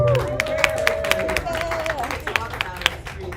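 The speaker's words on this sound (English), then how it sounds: "Everybody give a round of applause for Barb." Audience at a Pleasant Ridge community council meeting gives a round of applause for Barb, steady close clapping mixed with crowd murmur for a few seconds, a voice briefly speaking over it.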